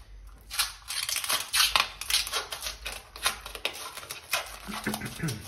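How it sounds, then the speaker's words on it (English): Plastic wrapping being pulled off an LED recessed light, making close, rapid crinkling and crackling bursts in an irregular stream over about five seconds, with no talking. "Now we'll take the plastic off our light"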